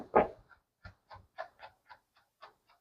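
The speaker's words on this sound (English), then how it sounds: "that is the sound of the brush scraping my fingers" A series of soft, short scratchy strokes of a grooming brush scraping fingers while brushing a Bichon Poodle mix, about ten in an uneven rhythm, close and quiet with silence between them.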